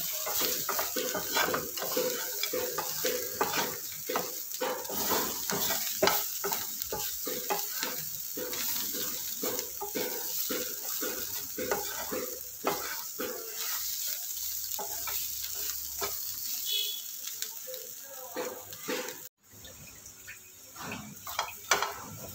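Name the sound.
bitter gourd slices frying and being stirred in a pan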